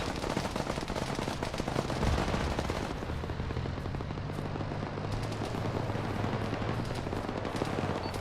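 Sustained enemy gunfire in the Arma 3 military game during a large team-versus-team offensive, dense rattling bursts of rifle and machine-gun fire from the southwest, loud and continuous for the whole stretch with a low rumble beneath.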